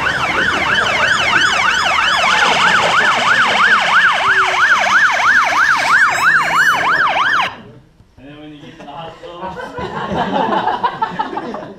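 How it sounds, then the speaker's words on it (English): Ambulance siren wailing loudly in a fast rising-and-falling sweep, close and dominant for several seconds before cutting off, followed by a rumbling vehicle and muffled background noise. "And then the ambulance come,"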